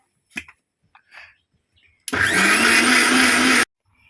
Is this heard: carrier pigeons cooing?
no